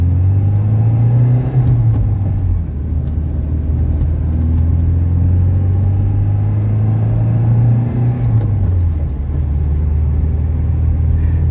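A 1982 Mercedes 240D diesel accelerates in first gear, its engine droning steadily and rising in pitch twice as it pulls, loud and close from inside the car.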